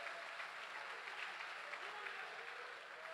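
A church congregation claps during a sermon, a continuous even spread of applause from many hands, faint and uniform throughout.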